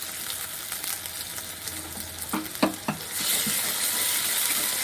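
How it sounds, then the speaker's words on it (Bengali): Ginger and garlic paste hits hot oil in a pan, a steady close sizzle with a few stirring knocks before the frying swells louder and hisses evenly to the end. "এরপর আমি এতে দিচ্ছি আদা বাটা রসুন বাটা"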